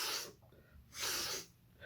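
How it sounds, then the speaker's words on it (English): Sniffling: a couple of sharp nasal sniffs drawn in close to the microphone, two breathy bursts with a short pause between, no speech. "got the sniffles all of a sudden"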